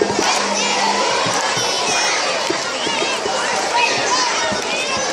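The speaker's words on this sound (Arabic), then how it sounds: "الجمهور متفاعل جدا" A concert crowd in Tangier cheering and shouting, many voices including high children's yells, dense and close, continuous excited chanting and whoops throughout.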